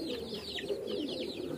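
Pigeons kept in a cage coo repeatedly in soft, rolling, throaty calls. The birds sound close and moderately quiet, and no one speaks.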